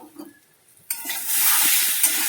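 Quiet kitchen noise gives way to a sudden loud, steady sizzle of food frying in a pan over medium flame, with faint stirring clinks underneath.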